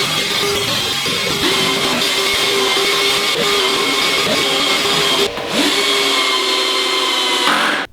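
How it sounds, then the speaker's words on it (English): A power drill whines continuously and loudly at close range, with grinding and rattling as it counterbores screw holes in plywood, barely changing pitch throughout. "I first counterbored all the holes"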